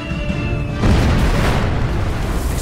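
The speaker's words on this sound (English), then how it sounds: "Explosions shake the island as fuel and ammo dumps are blown to pieces." A heavy explosion as 1,000-pound bombs blow up fuel and ammo dumps on an island erupts with a deep, sustained rumbling boom, broadband and loud, continuing for a couple of seconds after a steady tonal hum.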